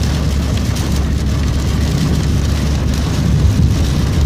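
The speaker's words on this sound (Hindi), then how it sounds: "इतनी तेज़ बारिश है आगे दिखाई भी नहीं देता" Torrential rain pounding on a moving vehicle while travelling, a dense, unbroken roar of drumming water over a low engine rumble, loud and steady throughout.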